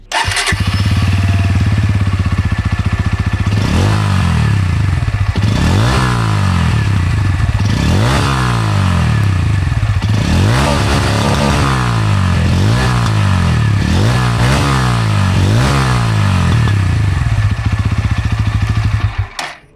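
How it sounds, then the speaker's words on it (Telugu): A Bajaj Pulsar N160 (USD fork version) motorcycle starts, then its exhaust note is revved in a series of about eight loud, close blips that rise and fall over a steady idle. No one speaks. "ఎగ్జాస్ట్ సౌండ్ కూడా మీరు అబ్జర్వ్ చేస్తే చాలా స్మూత్ అండ్ రిఫైన్డ్గా అనిపించింది"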